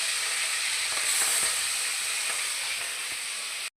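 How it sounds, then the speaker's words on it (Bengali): Fish frying in hot mustard oil in a home kitchen: an even, continuous sizzle and hiss at moderate level, with faint crackles, that cuts off abruptly at the end. "এবার মাছটা ভাজা হচ্ছে।"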